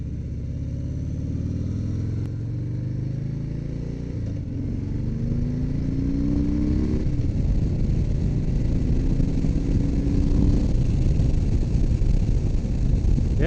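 A 2018 Harley-Davidson Sport Glide rumbles under its rider, the deep engine note building as the throttle opens with a few rising revs through gears, loud and close throughout.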